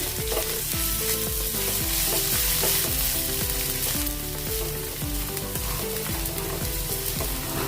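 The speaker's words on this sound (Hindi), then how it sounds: "अदरक लहसुन को भी हमने थोड़ी देर भून लिया है।" Loud, continuous sizzling and crackling of ginger garlic paste frying in a hot pan, with music playing in the background.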